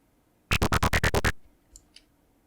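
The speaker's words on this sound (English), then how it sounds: "This seems to be pretty clicky here. You get a nice clicky sound there." A rapid burst of about eight sharp, clicky psytrance synth pulses, followed by two faint, short blips in near silence.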